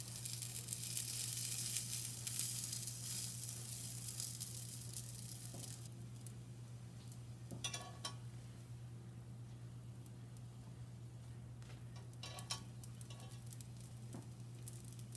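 Naan bread cooking on a grill pan, a soft steady sizzle close by with a few faint scrapes and taps as the bread is handled and flipped.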